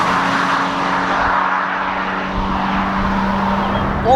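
A 2017 Toyota GT86 with a naturally aspirated engine accelerating, a steady close engine drone with a constant hum that holds throughout, no talking.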